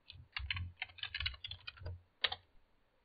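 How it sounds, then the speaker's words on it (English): Computer keyboard typing: quick bursts of clicky keystrokes, close and fairly loud, with brief pauses between runs and no talking. "do I type in like Flameshot?"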